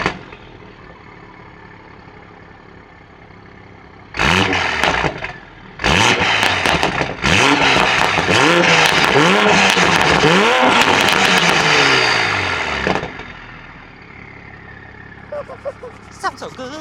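A 2020 Toyota Supra with a catless downpipe on a stock tune, sharply revved several times in loud bursts from idle, each rev climbing and falling back, then settling to a quieter idle.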